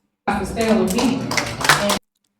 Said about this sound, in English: Okay, we got a slow clap.